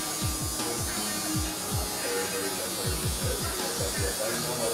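Electric hair clippers fitted with a number 1 guard buzz steadily while cutting a bald taper on ethnic hair, with quick repeated low sweeping strokes under a continuous hum, close and fairly loud.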